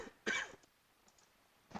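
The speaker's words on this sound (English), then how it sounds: "Sorry about that, I had to cough." A single close, sharp cough bursts out briefly, followed by quiet and a faint second throat sound at the end.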